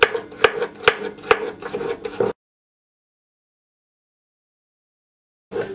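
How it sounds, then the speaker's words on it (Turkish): Knife chopping cucumbers lengthwise into large pieces on a cutting board in a home kitchen, a quick series of sharp, close taps for about two seconds, then silence before a brief return of sound at the end. "Salatalıkları da şimdi uzun uzun doğrayacağım."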